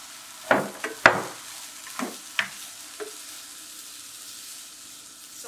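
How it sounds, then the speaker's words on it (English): Chicken and frozen mixed vegetables cooking in a pan for omurice, with several sharp scrapes and knocks of a utensil stirring against the pan over a quiet background, close, with no talking. "you're gonna add a 1/2 cup of the frozen mixed veggies and just cook it around for"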